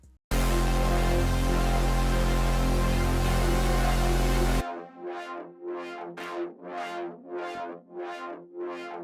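A loud, sustained synth lead from a preset called Psycho plays in FL Studio, then cuts to a series of rhythmic pulsing synth notes that swell and fade one after another.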